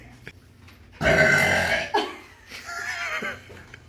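A woman lets out a loud, deep burp lasting about a second, followed by a shorter second burp and a drawn-out belch, recorded close up with no talking.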